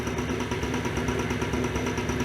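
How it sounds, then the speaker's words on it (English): A small Buddy 50 scooter engine idles steadily nearby, producing a smooth, even mechanical hum with a faint rapid pulsing throughout and no voices over it. "Settles into a nice idle."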